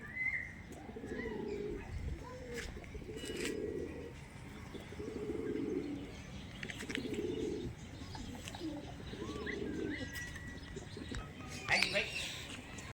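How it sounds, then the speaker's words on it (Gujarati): Pigeons out feeding on the ground give a series of low, repeated coos at a steady rhythm under faint outdoor background noise, with scattered chirps and a brief louder rustle near the end. "આ રીતના કબૂતર છે બધા ચણવા માટે બહાર આવેલા છે"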